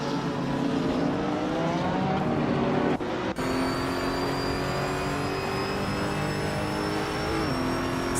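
Several race cars roar at high revs in a continuous, loud blend, engine pitches rising as they accelerate and overtake one another, with a brief dip and gear change partway through.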